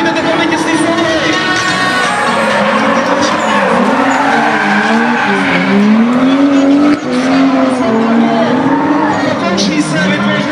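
A BMW E36 drifting at a Strahov drift event in 2012, its engine wailing loud and continuous with rising and falling revs and squealing tires throughout, with a commentator talking over it.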